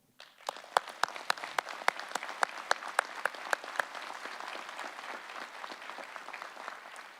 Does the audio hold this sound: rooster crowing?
no